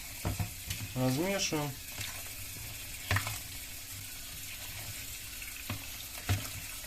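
Cold water poured into a pot of freshly cooked millet being prepared as fishing groundbait, a soft running hiss with occasional clinks and stirring knocks, and someone speaks briefly.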